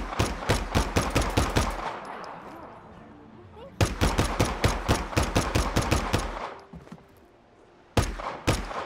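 Rapid pistol gunfire in the video game Just Cause 3, fired in three sharp, fast bursts of evenly spaced shots with short pauses between, loud and close, each burst trailing off into echo.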